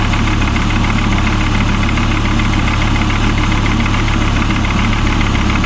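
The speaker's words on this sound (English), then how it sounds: "the engine is running nicely now on idle again" A car engine idles smoothly after its MAF sensor was cleaned, a loud, steady low hum with a constant vibrating drone and no change in rhythm throughout.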